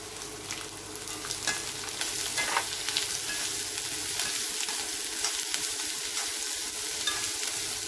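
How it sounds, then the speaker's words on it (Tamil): Finely chopped onions sizzle steadily in hot oil in a pan while a potato roast is being made, giving a continuous close frying hiss with occasional stirring scrapes and no talk. "இப்போ பொடியாக கட் பண்ண வெங்காயம் சேர்த்துடலாம்."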